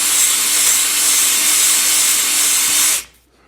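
A cylinder hone grinds steadily inside an engine bore, a loud, continuous abrasive whir with a faint tonal whine, then stops abruptly near the end.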